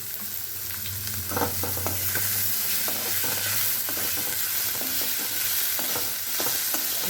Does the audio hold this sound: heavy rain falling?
no